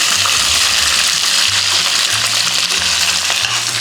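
Onions tipped into hot oil with curry leaves for a Telugu pumpkin curry, giving a loud, steady sizzle and hiss that fills the whole stretch without pause.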